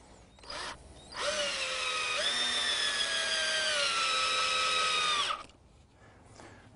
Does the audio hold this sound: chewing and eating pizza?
no